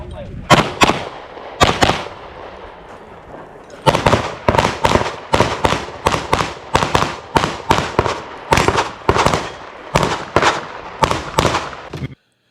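Loud, close gunshots ring out at a practical shooting match stage, fired as pairs and quick strings with short pauses. A dense rapid run follows the break, and the firing continues in steady bursts until it stops abruptly.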